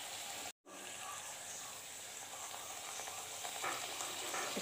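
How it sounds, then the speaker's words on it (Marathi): Semolina karanji pastries fry in hot ghee with a soft, even bubbling sizzle after a brief dropout, faint and continuous with no talk. "आपण आता हे तळून घेऊ, फ्राय करून।"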